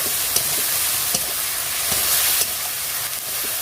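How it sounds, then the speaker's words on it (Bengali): Onion paste frying in oil with spices for a Bengali bhola fish jhal, a steady close sizzle and hiss with a few soft stirring scrapes throughout. "নিয়ে এইভাবে ভালো করে ফ্রাই করতে থাক"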